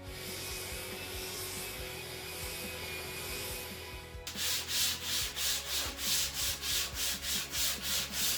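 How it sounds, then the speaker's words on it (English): An 80-grit fiber disc sands a wooden cutting board surface, first a steady continuous grinding rasp, then a loud rhythmic back-and-forth scraping in regular strokes, close and without speech. "First I level the surface with an 80 grit fiber disc"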